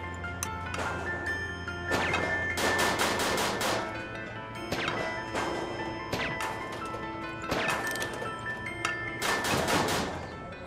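Gunfire in the video game Scribblenauts Unlimited comes as repeated sharp, loud cracking bursts in clusters over a steady backdrop of game music and effects.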